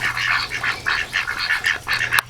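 Ducks and chickens crowded together inside a homestead coop make a steady stream of overlapping quacks and honking calls, fairly loud and close, with a low constant hum underneath.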